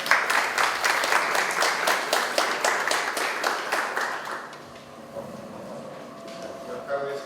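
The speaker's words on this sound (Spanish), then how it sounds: "Fuertes aplausos." Applause from a conference audience welcoming a court president, many hands clapping in a dense burst that slowly thins out and fades, leaving a quieter room with scattered sounds by the end.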